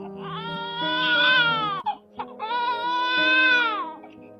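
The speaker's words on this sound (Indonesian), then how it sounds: "Suara bayi menangis pun terdengar memilukan." Baby crying as a sound effect in an Indonesian audio drama: two long, wailing cries from an infant, close and loud, split by a brief catch of breath, with no speech.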